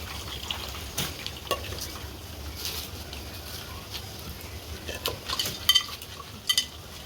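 A spoon stirring tamarind fish curry in a pot, soft scraping and light clinks of metal against the pan over a quiet background, with a few sharper taps near the end.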